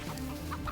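Chickens cluck softly at a poultry farm of about 9,000 birds while herding dogs drive them, a low continuous murmur of fowl sounds with no talk.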